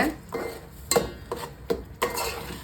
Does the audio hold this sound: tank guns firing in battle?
no